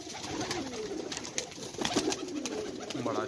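Kasuri pigeons cooing on a rooftop loft in Sialkot, soft repeated low coos under a busy, hissy outdoor background, fairly faint and intermittent.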